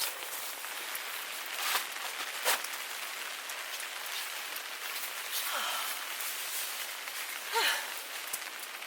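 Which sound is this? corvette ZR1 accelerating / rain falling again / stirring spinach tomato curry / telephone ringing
rain falling again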